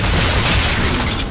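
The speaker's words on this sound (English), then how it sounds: "All this guy does is throw grenades." Heavy grenade blasts in the VR first-person cover shooter Street of Sanctuary, one loud booming roar sustained across the whole moment with no voices.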